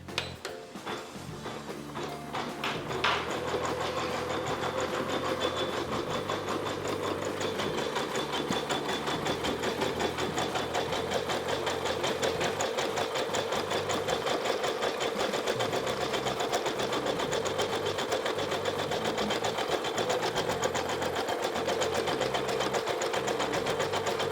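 A Janome Memory Craft 1000 embroidery machine stitches a name, running with a steady, continuous rapid mechanical chatter that stays loud and even for over twenty seconds after a short start.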